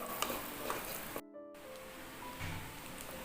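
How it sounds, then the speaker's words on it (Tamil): Coconut pieces fry in ghee with a soft, steady sizzle and faint stirring, broken by a brief gap of near silence before the crackle resumes. "இப்போ நல்லா நெய்யில் வந்து தேங்காய் நல்லா ஃப்ரை ஆகட்டும்."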